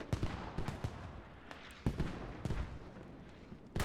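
Mortar rounds landing in the military shooter Squad, a series of sharp, scattered booms and thuds at irregular intervals, some close and loud, others more distant, with no voices.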